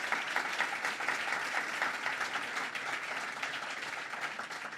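A dedication ceremony audience applauds at the completion of a children's museum, steady dense clapping from many hands heard alone throughout, moderately distant and even.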